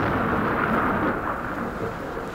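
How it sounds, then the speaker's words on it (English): Steady rain hisses with a low thunder rumble underneath, a soft, continuous wash of noise with no distinct claps and no voices. "Uh-oh, rain."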